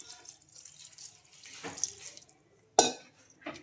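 Water is poured into a mixer jar of coriander and salt for a quick dosa chutney, a brief splashing pour standing alone at close range between quieter kitchen sounds.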